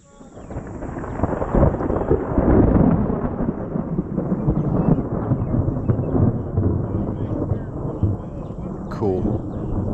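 Thunder from a storm during a fishing outing, a long heavy rolling rumble that swells loud early and stays dense and continuous, with rain-like hiss in the background.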